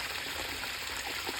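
Cold water from a waterfall flows in a steady, even broadband rush with a light splashing texture, close and continuous throughout with no voices.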